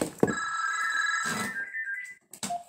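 A phone ringtone plays alone, a steady melodic ring running for about two seconds before cutting off, followed by a brief click and a short bit of noise.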